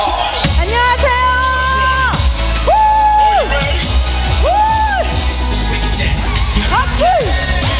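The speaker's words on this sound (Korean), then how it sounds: "박수 한번 주세요" Audience at a singer's year-end concert claps and cheers loudly and continuously, with bright rising-and-falling whoops and shouts cutting through the dense applause.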